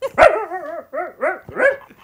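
A voice mimics a dog barking, giving four or five short, close, throaty yelping barks in quick succession over about two seconds, with no other talk.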